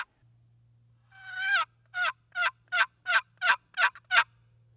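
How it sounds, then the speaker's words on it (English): A series of raspy, high-pitched yelps from a box call used for turkey hunting, about eight evenly spaced notes, close and fairly soft. "The most recognized and the easiest sound to make on a box call is the yelp."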